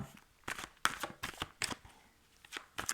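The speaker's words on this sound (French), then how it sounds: "Je vais tirer d'autres cartes" Tarot cards are shuffled by hand in a series of close, crisp riffling bursts with short pauses between them.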